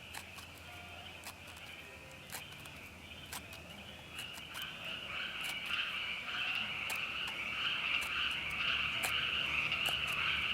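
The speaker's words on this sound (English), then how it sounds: "That's a bunch of frogs going crazy." A dense chorus of frogs croaks at a campground at night, a continuous high trilling mass with sharp individual calls popping out, building slightly louder over time, with insects mixed in and no talking.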